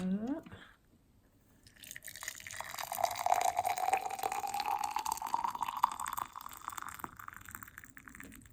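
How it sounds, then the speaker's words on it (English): Boiling water is poured into a cup for raspberry green tea, its steady splashing stream rising in pitch as the vessel fills over several seconds, close and clear after a brief quiet gap. "Okay, now I got the boiling water."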